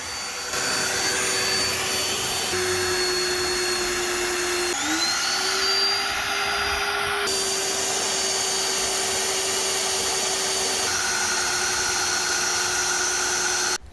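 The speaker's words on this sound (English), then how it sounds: "clamped a portable drill press to the transom and drilled the holes like this" A portable drill press clamped to a rotten boat transom runs at a loud, steady whine, its pitch stepping up and down across several cuts as holes are drilled through the wood, with no voices.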